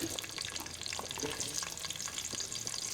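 Chopped onions frying in soybean oil for mutton kosha, a soft, even sizzle that holds steady throughout, fairly quiet and with no talk.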